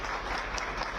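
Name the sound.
audience applause welcoming the Chief Minister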